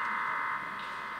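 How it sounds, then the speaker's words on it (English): A FreeDV HF digital voice signal received over amateur radio: a steady, dense band of hissing, warbling data tones that holds at a constant level for just over a second, with no speech. "The actual sound of digital sounds like this over the air."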